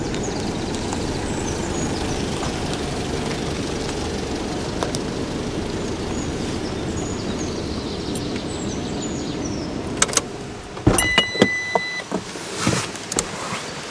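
A car pulls forward into position at a forest campsite during a rainstorm, a steady low engine rumble under constant rain before it stops, followed by a few door and handling clunks.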